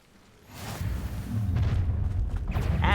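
A Confringo blasting spell erupts in the Hogwarts Legacy video game, giving a loud, deep boom that swells and rumbles on for a couple of seconds with crackling debris.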